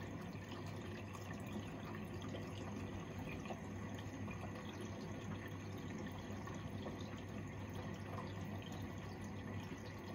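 A washing machine fills with water at the start of a cotton 95 wash cycle, a steady, quiet rush of inflowing water with a low mechanical hum running throughout, with no voices.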